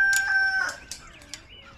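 Backyard chickens and a rooster at feeding time give short, close clucks and squawks in quick irregular bursts, fairly loud against a quiet background.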